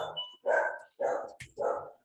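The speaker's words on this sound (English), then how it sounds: "Can you hear my dog back" A pet dog barks four times in quick succession indoors at home, each bark sharp, loud and near, with short gaps between them and no talking over it.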